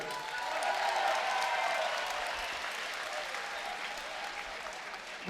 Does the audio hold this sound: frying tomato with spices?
no